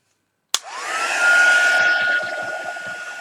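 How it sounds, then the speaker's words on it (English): A heat gun used on a painting starts abruptly with a click and runs as a steady, fairly loud whir with a rising whine that settles, continuing throughout with a slight change in tone partway through. "Heat gun."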